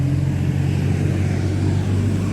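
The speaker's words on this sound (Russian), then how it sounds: "какие громкие автобусы, а?" Loud city buses pass close by in a park setting, with a heavy, steady low engine drone and rumble that fills the whole moment without any talk.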